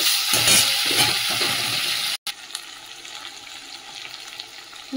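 Loud, steady sizzling of garlic, onion and green chilli frying in a hot pan, with a brief break partway through and faint stirring scrapes.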